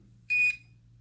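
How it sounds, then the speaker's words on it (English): An Eachine Mini F4U Corsair 400mm RC plane gives a single short electronic beep as it powers up on AA batteries, steady and clear over a low background hum. "Beeping and red light is good news. It's turning on."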